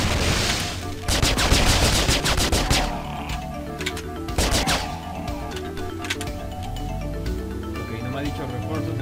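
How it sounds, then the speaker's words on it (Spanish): Rapid pistol gunfire in the video game Halo CE: bursts of quick sharp shots cluster early and midway over a continuous game soundscape, with someone talking alongside. "Lo que me gusta de las pistolas es que dispara excitadamente"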